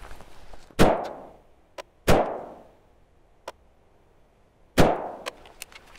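A PSA Freedom AR-15 rifle fires three sharp, loud shots at an outdoor range while zeroing, spaced unevenly, each with a short ringing decay, and fainter clicks and metallic taps come between them.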